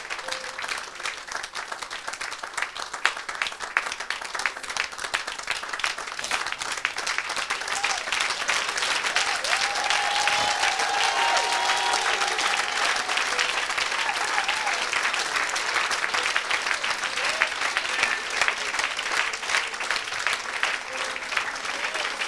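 A church congregation applauds in sustained, dense clapping that runs steadily throughout, with faint voices mixed into the crowd.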